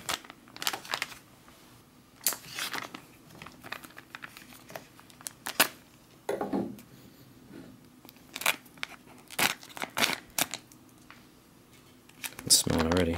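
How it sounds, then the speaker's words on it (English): Scissors snip through a Lithuanian combat ration pouch in a series of short, crisp cuts mixed with plastic crinkling and rustling, close up, with irregular pauses and a louder burst of handling at the end. "I guess I'm going to have to cut this one"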